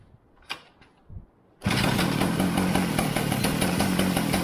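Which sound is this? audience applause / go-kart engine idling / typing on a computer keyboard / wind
go-kart engine idling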